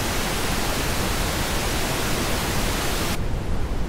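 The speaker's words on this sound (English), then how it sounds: "pink noise" A steady pink noise test signal plays loud and unbroken as a dense, even hiss, its top end cut off sharply just before the end.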